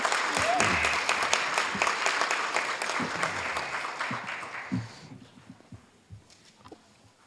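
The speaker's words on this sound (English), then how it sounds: "Let's give another big round of applause." Applause from the crowd at a Hayward city council meeting, steady and fairly loud for about five seconds, then fading away to a few scattered claps and faint room noise.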